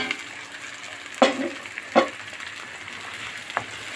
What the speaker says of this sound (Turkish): Şimdi melemen sosumuzu ilave ediyorum.